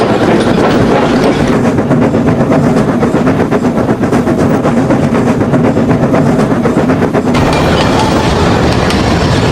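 A train of full trucks rolls steadily along rails, wheels beating a continuous clickety-clack at close range, loud and unbroken with no voices.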